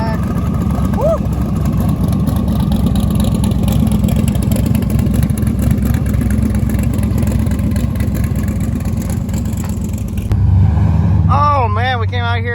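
Cars at a meet, including an off-road C4 Corvette, a Crown Victoria and an older Ford truck, rumbling and revving close by as they roll in, with excited voices talking over the engine noise.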